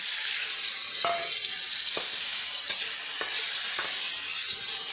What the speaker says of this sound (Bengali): এখন আমি ছোট করে কেটে রাখা আলু কুমড়ো আর পটল মধ্যে দিয়ে ভেজে নিই